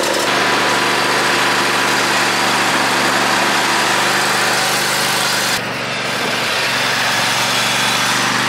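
A lawn mower engine runs steadily and loudly at close range for the whole stretch, with a constant idling drone. The tone shifts slightly partway through, and no one speaks over it.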